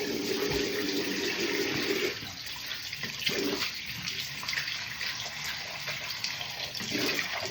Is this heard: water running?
yes